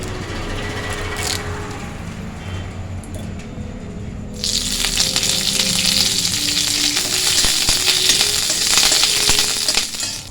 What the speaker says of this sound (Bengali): এখানে আমি কারি পাতা নিয়েছি বেশ কয়েকটা ডাল এই কারি পাতাগুলো আমি ভেজে নিচ্ছি